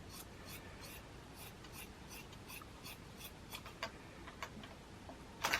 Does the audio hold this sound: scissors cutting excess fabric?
yes